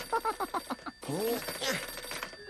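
A cartoon telephone rings in a quick series of bright, bell-like trills for about a second, then stops as a voice comes in.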